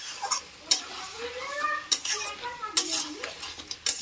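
A desi chicken curry being stirred in a pan: sharp metallic clanks of a spatula striking the pan at irregular intervals, with scraping and sizzling between them, close and moderately loud, and a faint voice in the background.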